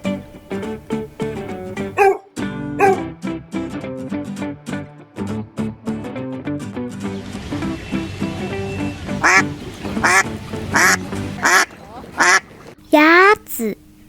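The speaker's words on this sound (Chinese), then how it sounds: "鸭子" A duck quacks in several loud, close bursts toward the end, following a stretch of a person talking.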